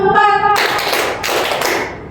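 Classroom group clapping game at an elementary school: a short run of sharp hand claps and taps follows a brief tonal note, the claps dense and close, with no talk over them.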